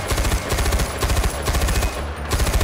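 Rapid automatic gunfire fills the shooter game Far Cry 4, with loud, continuous bursts of closely spaced shots and no pauses.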